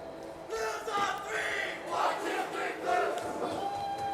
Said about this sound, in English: Blues are fired up here. They got their cheer going.